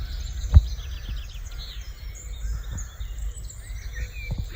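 Birds chirp and twitter outdoors during a daily walk in lockdown, faint high calls scattered over a steady low background rumble, with a single brief thump near the start.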